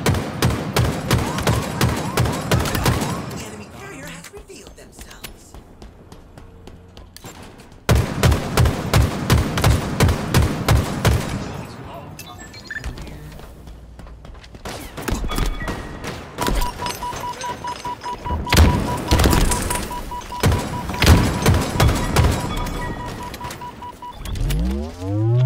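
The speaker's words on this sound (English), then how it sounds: "Plasma grenades" Plasma grenades exploding in Halo Infinite during a ranked arena capture-the-flag match, with heavy rapid blasts and booming bursts in several loud clusters separated by quieter gaps, plus a steady electronic tone in one stretch.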